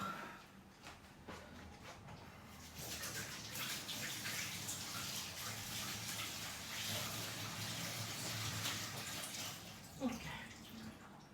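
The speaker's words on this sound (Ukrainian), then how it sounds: "руки мию" Hands are washed under a running kitchen tap while making varenyky, a steady close stream of water splashing for several seconds before cutting off near the end.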